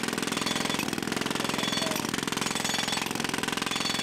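Students run a jackhammer at a construction fair: a loud, continuous rapid pounding with a fast steady rhythm, close and dominant, with no voices audible.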